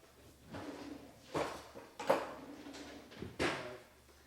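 Rubbermaid rubber spatula scraping leftover food out of a container in a home kitchen, a few separate short scrapes and knocks with quiet pauses between, close by.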